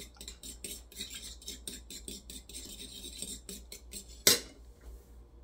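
A utensil beats eggs and vanilla in a bowl for blueberry muffin batter, producing a fast, even run of close tapping clicks that ends with one sharper clank.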